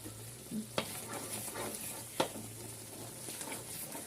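Sticky rice crust of biko, burnt and clinging to a pan, scraped with a utensil: soft crackling sizzle with two sharp scrape clicks, close and fairly quiet, no talk.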